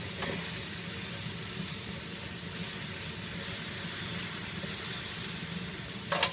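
Fajita peppers sizzle steadily on a hot grill, a continuous close crackling hiss that holds level throughout, with a faint clink near the end.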